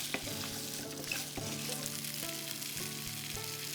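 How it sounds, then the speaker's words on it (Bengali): Whole spices frying in hot oil over very low heat for a potato curry to go with kachori, a steady soft sizzle with occasional light stirring clinks, continuous and fairly close. "তিরিশ সেকেন্ড মশলা ভেজেই আলুগুলো দিয়ে দেবে"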